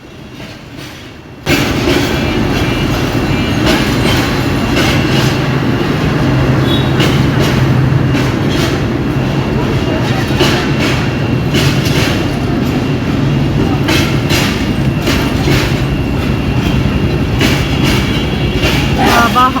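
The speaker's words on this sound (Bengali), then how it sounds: "অনেক বড় ট্রেন" A long train passes a rail crossing where a bus waits at the signal. After a quiet second and a half, a loud, continuous rumble and clickety-clack of wagons starts abruptly and carries on to the end.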